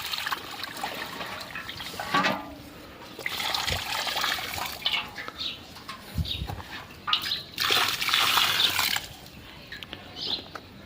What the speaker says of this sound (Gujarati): મહાદેવ ને પાઈ દીધું. હવે આને પાઈ દીધું.